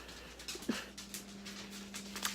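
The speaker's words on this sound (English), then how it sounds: "I have a dog that is trying to" A dog pants and whimpers softly in a home kitchen while pork chops, apples and onions go into a slow cooker, with faint short breathy bursts and a low steady hum throughout.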